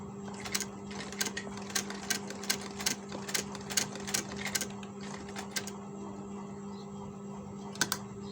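A sewing machine stitching the collar placket of a men's kurta, quiet rapid bursts of needle clatter over a low steady motor hum, pausing briefly before one last short burst.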